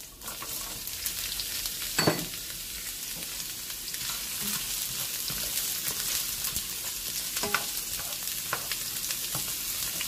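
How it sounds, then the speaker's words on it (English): Ingredients for a coconut red snapper dish sizzle in hot oil in a pot, a loud, constant crackling fry with occasional sharper pops and stirring clatter, close and with no one talking. "So now I'm gonna start putting my ingredients in the pot. See, my oil is nice and hot."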